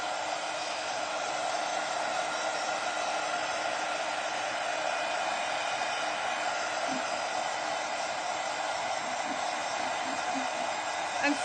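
A hair dryer blows steadily and loudly on a decoupaged Dollar Tree plastic Christmas ornament, its even rushing whir unbroken for the whole stretch with no talk over it.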